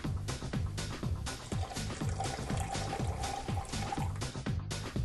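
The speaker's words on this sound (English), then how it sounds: "We add the apple juice." Apple juice poured into a mint cocktail makes a steady liquid stream close up for about five seconds, a faint ringing tone running through the middle, over a repeating low rhythmic background.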